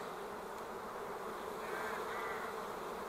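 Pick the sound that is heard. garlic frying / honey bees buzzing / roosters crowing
honey bees buzzing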